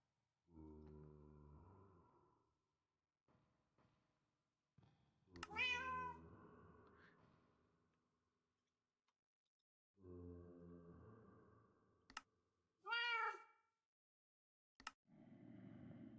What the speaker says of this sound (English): cat ambient